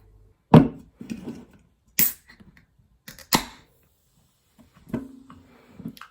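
A few sharp clicks and pops in quiet surroundings, then a short hiss, like a can tab being pulled and a Pepsi Max can cracking open, close by.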